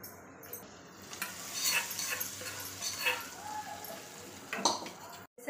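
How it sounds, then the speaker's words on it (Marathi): Dal being stirred together with a spiced tempering of chillies, chilli powder, coriander and salt, giving soft scraping and stirring noises with a faint sizzle, fairly quiet and close, with a brief louder clatter near the end. "सगळं मिक्स करून घ्यायचं."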